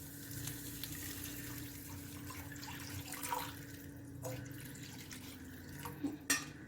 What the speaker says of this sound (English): So now we'll add water in it.